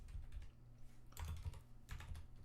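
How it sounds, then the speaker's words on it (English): Quick typing on a computer keyboard, a soft and fairly faint run of clicking keystrokes in small bursts, with no voices. "Typing too fast."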